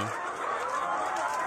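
A chicken gives soft, scratchy clucks in a steady run of muttering sounds close by, with a faint voice in the background.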